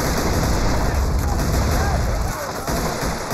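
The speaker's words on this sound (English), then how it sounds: "you soldier, get on that machine gun" Machine gun fire in the Army Men of War video game, a dense, loud, continuous barrage of shots and booming battle noise with no letup.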